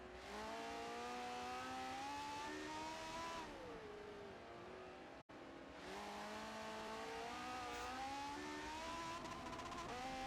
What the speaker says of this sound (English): We ride on board the Ferrari.